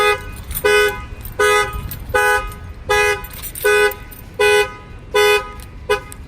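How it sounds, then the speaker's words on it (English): A Ford Edge car alarm blares in regular, evenly spaced honking bursts, about eight loud repeated tones with short gaps between them, close and insistent. "if anybody tries to break the window, the alarm will fire off"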